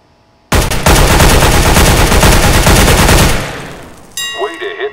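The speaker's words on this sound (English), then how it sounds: "Pick up that weapon and unload the clip into the target." A rifle in Counter-Strike: Global Offensive empties its magazine at a target in one loud, rapid automatic burst lasting nearly three seconds, then stops, followed by a brief metallic reload clatter.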